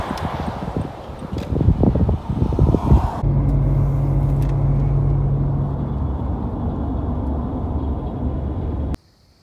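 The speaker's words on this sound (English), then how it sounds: "Test driving the trailer to the dump." A pickup truck pulls a large homemade trailer built from a truck bed along a road, a steady close engine and road rumble with rattling and clunking early on, then a smoother drone until it cuts off.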